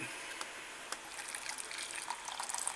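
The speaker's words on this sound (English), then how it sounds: "let me pour it." Brewed teabag tea being poured into a cup, a steady thin trickle of liquid running throughout with faint splashes.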